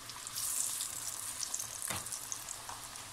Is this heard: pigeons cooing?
no